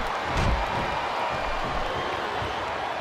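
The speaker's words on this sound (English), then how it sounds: "I love hearing the crowd come alive" Crowd roaring and cheering in the WWE Smackdown vs Raw 2007 video game during a Big Show vs Hardcore Holly match, a steady dense wash of arena noise with no breaks.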